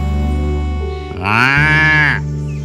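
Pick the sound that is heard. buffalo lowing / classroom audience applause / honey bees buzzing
buffalo lowing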